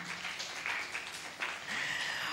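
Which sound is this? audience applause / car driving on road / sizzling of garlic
audience applause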